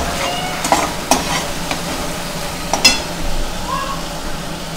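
Masala with tomato puree frying in oil for shev bhaji, a close continuous sizzle with a few sharp clinks and scrapes of a spoon stirring against the pan.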